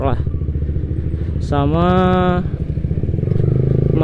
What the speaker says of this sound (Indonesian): Lagi mau jalan-jalan sore juga, sekalian manasin motor lah.